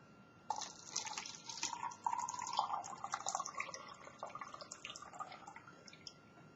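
Water poured into a container, a soft trickling stream with bubbling, splashing pitch that rises as it fills, faint and close, fading out after several seconds.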